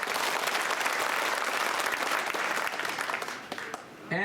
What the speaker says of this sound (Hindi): अरे याद है तो ताली लगा।